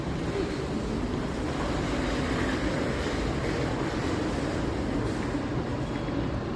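MRT train running near Boon Keng station in Singapore, a steady rumbling roar of rail cars that holds at an even level throughout, with no talk.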